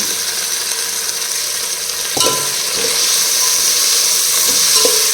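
Fresh vegetables tipped into a hot pot for pulao, a sudden clatter and hiss at the drop, then a steady close sizzle with a few scraping stirs.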